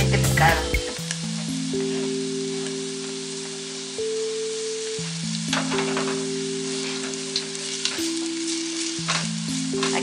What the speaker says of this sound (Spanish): Aquí la cebolla solamente a que cristalice.